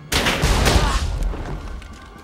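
A gun fires abruptly in a tense film scene, a loud sharp burst with a booming, rumbling tail that decays over about two seconds.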